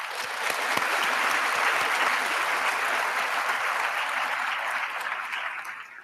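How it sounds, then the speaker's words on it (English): Sustained applause from a graduation ceremony audience, a dense, steady wash of many hands clapping that holds for several seconds before tapering off at the end. "Please give them a round of applause."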